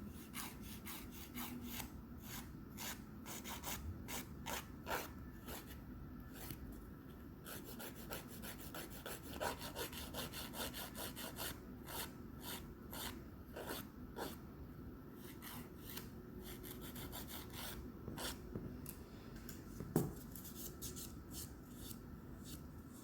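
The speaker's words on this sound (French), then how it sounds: "il faut bien qu'elle lime pour justement bien ajuster l'ongle" Steady back-and-forth rasping of a nail file shaping artificial nails after application, a close, continuous scratchy rubbing that runs throughout without pause.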